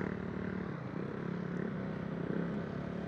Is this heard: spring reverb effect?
no